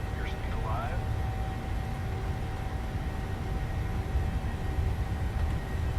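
PMDG 737-700 engines spool to takeoff power in a flight simulator, a steady broad roar with a faint tonal whine running underneath the whole time.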